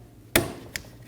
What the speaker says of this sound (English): Install the clamp,